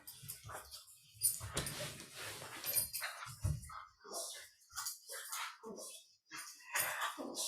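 A dog during a relaxing yoga session makes soft whimpers, yips and small barks, close but quiet, scattered in uneven bursts.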